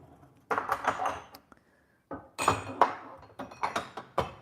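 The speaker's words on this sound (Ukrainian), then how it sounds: "Гарно перемішаємо і салат готовий." Clinking and scraping of utensils against a bowl as a protein salad is tossed, in irregular bursts with brief pauses, close and fairly loud.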